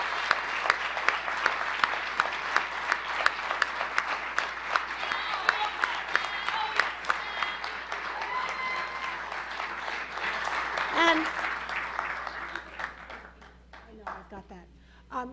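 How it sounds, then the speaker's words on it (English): A crowd at an American Humanist Association gathering gives a sustained round of applause, dense clapping that stays full for about twelve seconds before thinning into scattered claps and fading near the end. "Let's give all the folks and the staff at the AHA office that are doing this amazing work a great round of applause."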